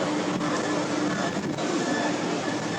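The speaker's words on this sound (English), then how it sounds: "Monorail." A monorail at Europa Park rolls by close and loud, a steady rushing rumble of wheels and motor with a faint whine, sustained across a few seconds without talk.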